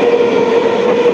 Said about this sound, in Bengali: পুরো মাঠের মাঝখান দিয়ে লোকাল ট্রেন যাচ্ছে, মাঠের মাঝখান দিয়ে ট্রেন যাচ্ছে